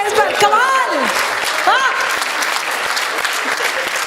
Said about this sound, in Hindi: बड़ी जोरदार तालियां होनी चाहिए इस पर।